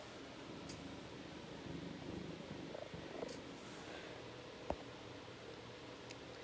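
A resting kitten purrs in a soft, steady, continuous rumble close by, with faint rustling and one small tap partway through.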